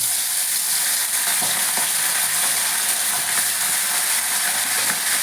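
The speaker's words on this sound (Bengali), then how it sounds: "আমি গ্যাসে কড়াই বসিয়ে তেল দিয়ে দিয়েছি আমার তেলটা গরম হয়েছে এবার মাছগুলো আমি ভেজে নেব" Pomfret pieces frying in hot mustard oil in a wok on a gas stove, a steady dense sizzle with faint crackles and occasional ticks, close and continuous with no talking.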